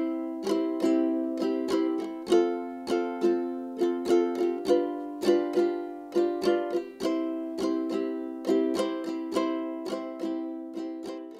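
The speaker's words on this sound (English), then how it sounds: "This is what the strumming pattern would sound like with a few chords." Ukulele strummed in a down-down-up, down-down-down-up pattern through a few chord changes, bright and close, with steady rhythmic strokes ringing alone.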